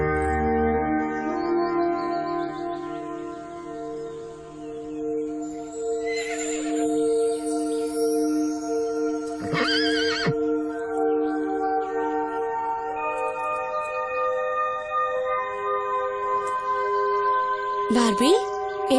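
A horse whinnies in an animated Barbie pony tale, with a couple of sharp neighs rising over steady background music and a bit of talk.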